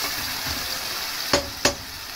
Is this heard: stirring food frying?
yes